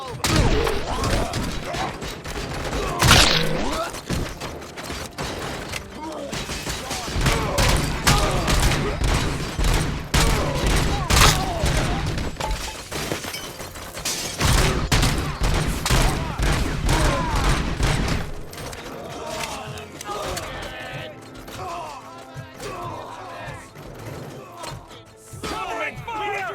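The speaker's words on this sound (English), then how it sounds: "Covering fire!" Sustained covering gunfire and heavy impacts from a RoboCop: Rogue City firefight, loud and dense throughout with repeated thumps and bursts, while voices talk over the battle.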